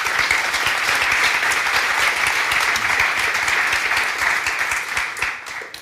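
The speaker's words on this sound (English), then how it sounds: "Please give us a round of applause for our guests today." Sustained applause from a conference audience welcoming guests at a talk on AI for product managers, dense and steady throughout before thinning slightly at the end.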